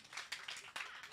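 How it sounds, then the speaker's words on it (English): An audience of children and mothers clapping hands at a Mother's Day reading event in a retail centre, a brief, steady patter of many hands with a few stronger accents, fairly faint and without speech. "Put your hands together."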